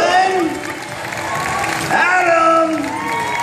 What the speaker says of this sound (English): Put your hands together for our contestants.